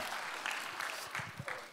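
Faint congregational applause at a Friday evangelism gathering in a Daegu church, a soft patter of clapping with scattered claps heard at a distance.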